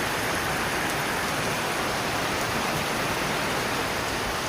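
Heavy rain pours down in a dense, constant hiss, steady and loud throughout with no pauses.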